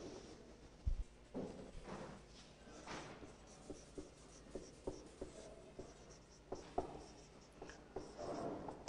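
Chalk or marker scratches out the area formula for a rectangle on a classroom board in short, uneven strokes and taps, close and moderately loud with brief pauses between marks.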